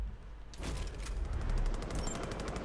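A quick burst of machine-gun fire starts after a brief pause in Far Cry 5, rapid evenly spaced rounds rattling on for about two seconds, fairly close and steady.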